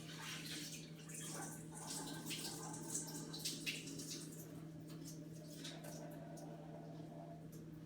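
Rinse water pours off red lentils and white rice through a mesh screen lid, a faint continuous splashing trickle over a steady background hum.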